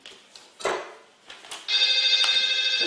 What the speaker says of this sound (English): And there's another mobile phone going off.